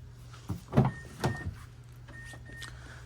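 Driver's door of a 2008 Mazda 3 Grand Touring hatchback opening, a few close mechanical clicks and clunks from the latch and hinge over a low steady hum, with no voices.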